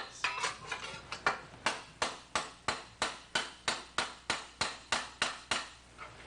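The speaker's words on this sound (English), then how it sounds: "So I'll only be hammering on this outside edge." A hammer strikes the outer edge of a steel armour plate held on a ball stake while a 14th-century arm harness is shaped, giving about fifteen bright, ringing blows at a steady, even pace, close and without talk.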